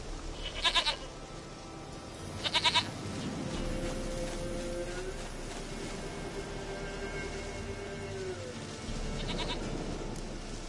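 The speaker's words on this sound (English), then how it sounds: "Goat of mine, dearest, sweetest goat." Three short, quavering goat bleats in The Witcher 3, spaced a few seconds apart over a low ambient background, each brief and moderately loud.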